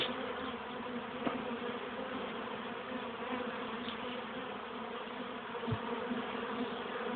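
Bees steadily buzzing around a hive in warm sunshine, a continuous, even drone with no talk over it and a couple of brief louder passes close by.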